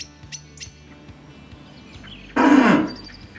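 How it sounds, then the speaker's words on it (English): A short, loud, rough bellow bursts out once after a few faint chirps, close and alone with no talking. "This is a bull."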